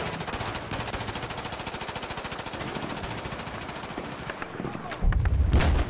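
Rapid, sustained automatic gunfire in Battlefield 4 rattles in a fast, even stream for several seconds, loud and close, then a heavy booming explosion lands near the end.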